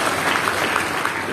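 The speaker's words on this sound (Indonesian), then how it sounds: "Tepuk tangan yang paling meriah" A church congregation applauding, dense continuous clapping from many hands throughout, loud and close.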